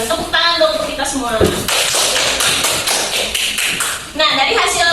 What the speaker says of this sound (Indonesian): Tepuk tangan dong untuk kita semua.